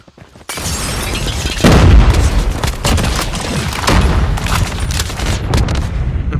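A JAK-12 shotgun loaded with incendiary ammo fires in the mobile game Call of Duty Mobile. Loud, sharp blasts repeat at an uneven pace, layered with booms and distant gunfire from the battle.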